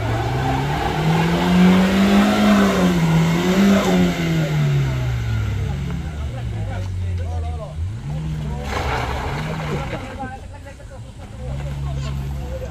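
A truck engine labors and revs loudly on a steep incline at Batu Jomba, a continuous close drone with rising and falling pitch across the whole stretch.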